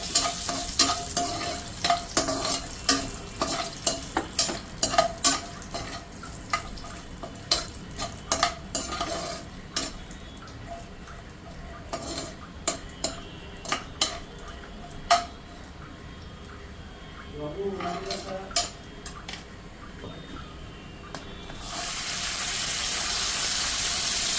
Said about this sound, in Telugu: కొంచెం కాజులు వేయాలండి, టేస్ట్కి మనకు బాగుంటుందని, రుచిగా ఉంటుందని కొంచెం కాజులు వేసుకోవాలి.